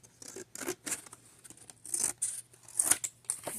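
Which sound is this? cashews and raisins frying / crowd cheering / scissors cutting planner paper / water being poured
scissors cutting planner paper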